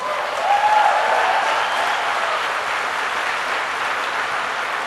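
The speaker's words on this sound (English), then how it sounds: "give a big round of applause to all of those who have supported you over the years" A large crowd at a McGill Engineering convocation ceremony claps in broad, sustained applause that stays loud and even throughout.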